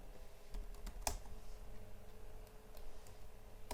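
Typing on a computer keyboard while writing Java code, soft clicking keystrokes at an irregular pace with one sharper tap, quiet and close over a faint steady room hum, no speech.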